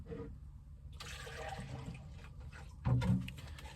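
Water runs and splashes from a tap as it is fetched for watering young watermelon seedlings, a moderate rushing flow that swells near the end, heard close with no talking.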